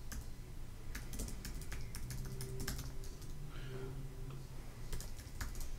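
Quick clicks from a computer keyboard come in short bursts as a password is typed. The tapping is close but quiet and sits over a faint low background hum.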